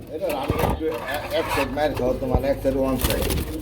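Many pigeons coo continuously at a busy pigeon market, with overlapping warbling calls and constant crowd chatter and clatter around them.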